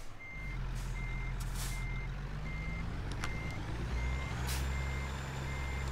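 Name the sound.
truck reversing beeps in the video game American Truck Simulator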